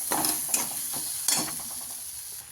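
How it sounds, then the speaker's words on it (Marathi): Egg curry masala with coconut fries in oil, a steady sizzle broken by several stirring scrapes and clinks of a spoon against the pan, up close with no talking. "खोबरा टाकून घेऊ थोडंसं हलवून घेऊ"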